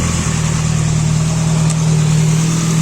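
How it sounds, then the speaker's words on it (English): A car engine, freshly repaired and running with no leaks, idles close by in a steady, loud, even hum that neither rises nor falls. "Engine itself, it's all running all good."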